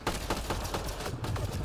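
Rapid gunfire in Mass Effect: Andromeda during an assault on a Kett base, a sustained stream of loud shots with sharp bursts roughly every quarter second, dense and unbroken throughout.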